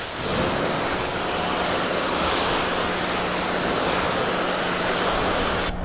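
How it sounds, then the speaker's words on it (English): A water spray hose rinses down a car in a steady, loud, close hiss that runs without break for several seconds and cuts off abruptly at the end. "This is just rinsing."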